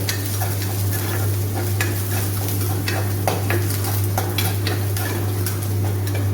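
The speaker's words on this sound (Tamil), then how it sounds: "கொஞ்சம் ஒரு அஞ்சு நிமிஷம் கொதிக்க வச்சோம்னா கில்லு சாம்பார் ரெடி ஆகிடும்" Kilu sambar, made without vegetables, simmers in a pot on the stove, giving a steady sizzling bubble with repeated scraping stirs of a spoon against the metal over a constant low hum, and no one speaking.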